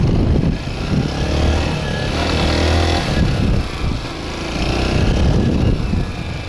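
Honda XR 190 CT motorcycle riding off-road in second gear, its engine droning steadily and loudly up close with slight rises and dips in revs throughout.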